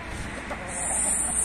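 Young chickens cluck briefly nearby against a noisy outdoor background.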